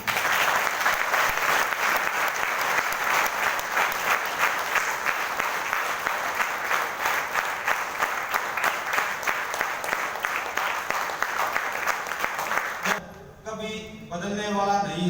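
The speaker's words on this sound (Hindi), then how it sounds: "आपकी इन शानदार तालियों के लिए।" Loud, sustained applause from an audience at a motivational talk for staff, dense and continuous for about thirteen seconds, then cut off abruptly as music or voices take over.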